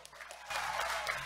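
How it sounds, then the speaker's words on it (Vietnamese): Audience applause at a fashion show fundraiser, a dense wash of clapping that swells after a quieter start and holds steady and fairly loud to the end. "Cho nên rất xứng đáng được quý vị một tràng vỗ tay thật lớn nữa cho phần fashion show"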